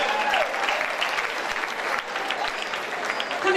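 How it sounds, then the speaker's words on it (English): Audience applause at the Miss Bermuda beauty pageant, a steady, dense wash of clapping that fills the room at full strength and holds evenly throughout, with no talk over it. "Give her another round of applause."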